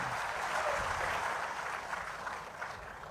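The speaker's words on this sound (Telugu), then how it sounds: "గట్టిగా చప్పట్లు కొట్టి" An audience clapping at a community gathering in Tatipaka village, a steady dense wash of applause at moderate distance, fading slightly toward the end with no talk.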